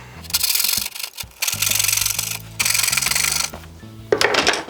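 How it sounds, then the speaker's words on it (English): A coping saw cuts out dovetail waste in a wooden board, making loud, rasping strokes in steady sustained runs separated by short pauses, close up with no talking. "now we're going to clear out our waist with our coping saw"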